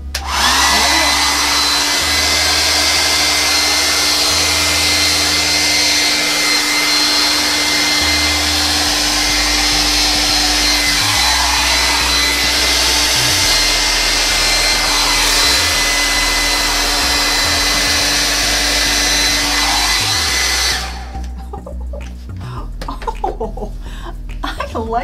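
A hair dryer on high blows acrylic paint across a Dutch pour, a loud, steady close-up whoosh that holds for about twenty seconds before cutting off into quiet room sound.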